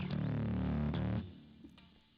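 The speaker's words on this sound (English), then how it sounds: "I added a little preamp overdrive" Bass guitar played through a touch of preamp overdrive distortion, a thick, gritty sustained note ringing loud for just over a second before cutting off and decaying into quiet.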